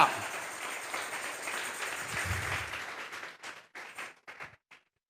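A church congregation claps in praise, a broad wash of applause that thins into a few scattered final claps and fades to silence.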